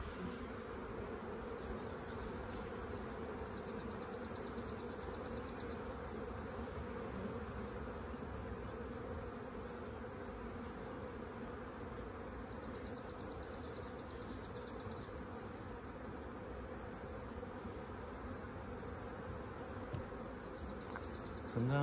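Honey bees hum steadily around an open hive while frames are lifted during a check for mated queens, a continuous faint drone with no voices.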